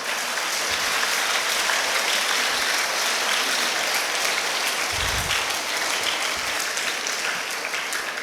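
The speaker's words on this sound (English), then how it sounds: "So let's clap for them first." An audience at a school World Environment Day event applauds the students, a dense, even rush of clapping hands sustained for several seconds, fairly loud, with an occasional low thump and no talking.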